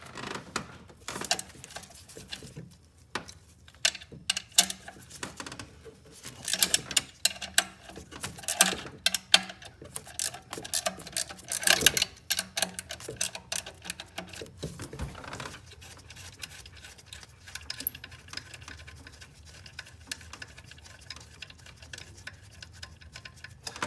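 Ratchet loosening a bolt on the alternator of a 2006 Scion, heard as long runs of rapid, fine ticking and clicking with uneven bursts, close up, easing to quieter clicks near the end.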